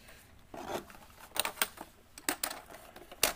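Typing on a Cooler Master Novatouch TKL Topre keyboard, with a handful of soft, separate keystrokes clicking irregularly and close up, some landing in quick pairs.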